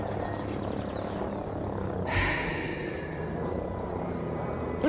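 Helicopter rotor and engine drone from the Ghost Recon Breakpoint video game, a steady low throbbing wash running throughout beneath other game noise, swelling briefly louder near the middle.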